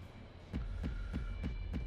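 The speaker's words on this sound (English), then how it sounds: "what is with that fucking heartbeat?" A steady heartbeat sound effect from an anime episode of One Punch Man, with about five deep, regular thumps over a low droning hum, loud and close with no talking.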